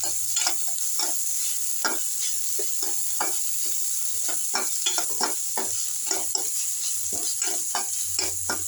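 Coriander leaves sautéing lightly in a pan for kothamalli keerai kadaiyal, a continuous sizzle broken by repeated soft scraping stirs at an irregular rhythm, close up with no voices.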